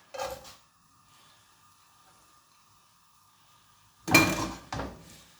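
Onions and then potatoes dropping into a cooking pot for ciambotta, a stewed mixed-vegetable dish: a brief clatter at the start, a quiet stretch, then a louder pair of clattering thuds near the end.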